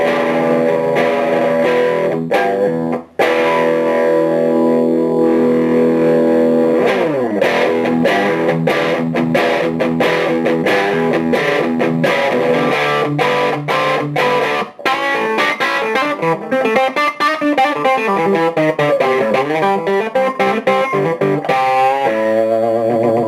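Electric guitar through a Shark Jump distortion pedal, chords and riffs with a saturated, gritty tone, loud and up front, some bending lead lines later.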